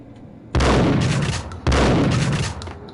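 Shotgun in the action game Max Payne, firing two loud, close booming blasts about a second apart, each with a long rumbling tail.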